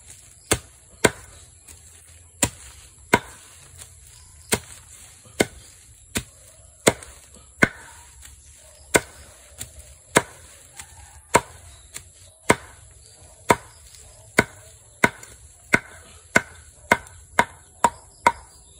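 Stinging nettle being chopped on a board for swamp fertilizer, a series of about two dozen sharp, isolated knife strikes, spaced unevenly at first and quickening toward the end, close and clear over a quiet background.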